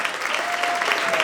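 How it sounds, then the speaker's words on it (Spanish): Audience applause for a sports science professor at a public science night event, a steady dense wash of clapping lasting about a second, loud and close with no talk over it. "Un aplauso muy fuerte para Diego Pastor."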